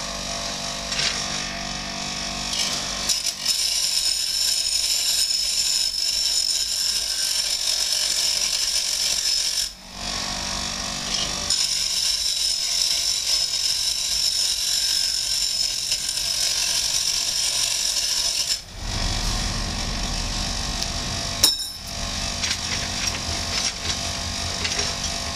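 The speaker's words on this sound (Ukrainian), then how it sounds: "пізніше беремо точило," A bench grinder works the ends of metal workpieces, making a sustained high whine with rasping contact that stops briefly between pieces and then resumes, close and fairly loud, with no talking.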